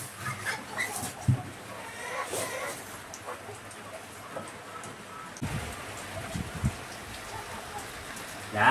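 Steady rain falls outdoors, a continuous close hiss with scattered drips and knocks, and faint background voices now and then.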